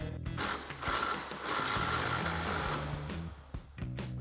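Impact wrench with a swivel adapter backing out a tight strut bolt on a RAM 1500 front suspension, loud close mechanical hammering in bursts with brief pauses between.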